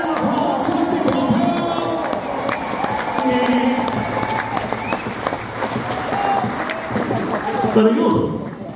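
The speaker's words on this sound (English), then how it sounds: "Give yourselves a round of applause as we come" A crowd at a Lancashire Hotpots show applauds and cheers, a continuous rumble of claps and shouts under someone talking over the noise.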